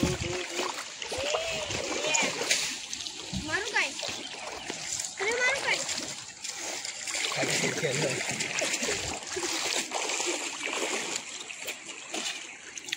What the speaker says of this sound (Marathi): गाडी धुवायला आलोय मित्रांनो